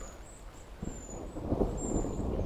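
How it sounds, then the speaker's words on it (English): Low thunder rumbles and swells in a summer woodland, a broad distant roll building louder over a couple of seconds with faint bird whistles above it. "It's starting to thunder."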